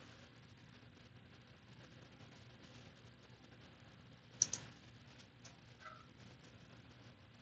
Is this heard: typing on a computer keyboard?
yes